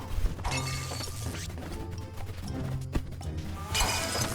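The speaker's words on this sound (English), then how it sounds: "And we'll start smashing her house up," Objects crash and shatter as a house gets smashed up in the Over the Hedge PS2 video game, with repeated breaking impacts over a dense, busy game soundtrack.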